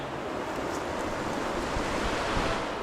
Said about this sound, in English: I reckon I could drink that whole river.